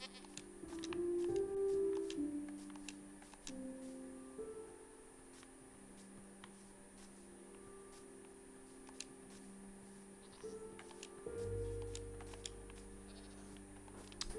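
Goats in the Minecraft video game bleat twice in close succession early on, fairly loud and nasal, then quieter in-game ambience with faint ticks runs on, with another brief cry near the end.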